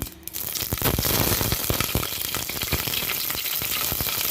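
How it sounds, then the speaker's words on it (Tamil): Butter dropped into hot oil in a pan while making butter paneer masala, giving a loud, steady close-up sizzle and crackle that swells after a brief quieter start and holds for several seconds. "இப்போ எண்ணெய் ஊற்றிட்டேன் கொஞ்சம் அதுலேயே பேட்டரு போட்டு"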